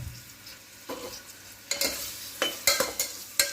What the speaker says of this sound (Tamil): ஆட் பண்ணிவிட்டு இதை வந்து நல்லா ஒரு கிண்டி விட்டுக்கலாம்.